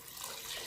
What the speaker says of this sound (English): Then I add some water in the mixed black beans and corn.